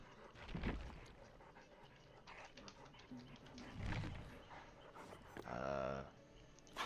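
Dog panting in the Dead by Daylight video game, a quick rhythmic breathy huffing up close that rises in a few bursts over game effects and background sound.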